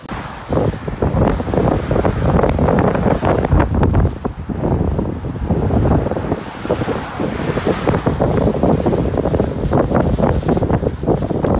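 Strong storm wind roars and buffets the microphone during a bicycle ride, in loud, continuous gusts that barely let up.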